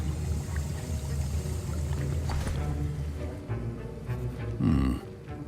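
A potion is stirred and brewed in a Hogwarts Legacy classroom, giving faint liquid swishing and a gurgling pour-like surge near the end over a low, sustained musical drone.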